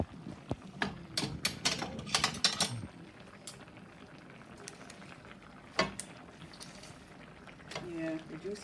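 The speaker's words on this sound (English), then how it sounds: "Gravy is bubbling away." Gravy bubbles and sizzles in a roasting pan beside a leg of lamb, with clustered pops and crackles strongest early, then a softer steady simmer marked by occasional bursts, close by.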